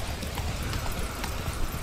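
Horse hooves clip-clop at a quick galloping pace in Witcher 3, a steady run of hoofbeats over a rushing background.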